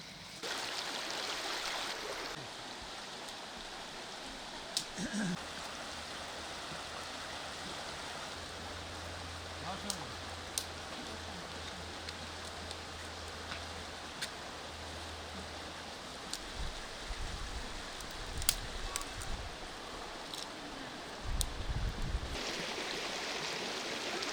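River flowing beside an outdoor riverside cooking spot, a steady soft rushing of water with scattered clicks and taps and occasional low rumbles, moderately distant.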